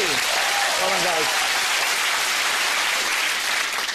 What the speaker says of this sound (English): Give a huge round of applause to Ian and Natalie.